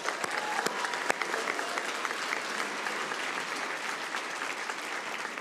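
An audience at a medical school Match Day ceremony breaks into sustained applause, a dense, even patter of many hands clapping that carries on steadily at a moderate distance.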